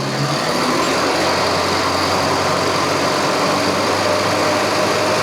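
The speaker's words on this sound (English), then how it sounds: "we'll just go through the rev range and see what it's doing. So that's 2000 RPM." A Mini's engine holds at a steady 2000 rpm, a loud, even, continuous drone with no breaks and no voices.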